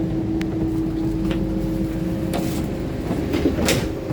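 Motis Selatan train pulling into Purwosari station, heard from inside the carriage as a steady low rumble and hum with occasional metallic clanks and squeaks.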